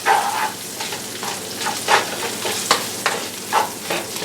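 A spatula stirs rosemary-seasoned food frying in a pan: a continuous sizzle broken by several rhythmic scraping sweeps, close and fairly loud, with no talking.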